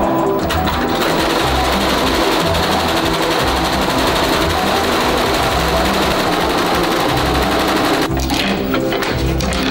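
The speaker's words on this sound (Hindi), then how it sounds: "एक समय पे ये मशीन 4 या उससे ज्यादा सर्किट इस फैब्रिक पर सिल देती है" An automatic embroidery machine stitches several circuits onto fabric at once, giving a loud, steady, rapid mechanical chatter that runs throughout and briefly shifts in character near the end.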